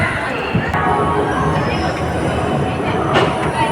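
The Kandari Express pulls out of Howrah station bound for Digha, its wheels and carriages rumbling loudly and steadily, with a faint squeal and crowd murmur in the background.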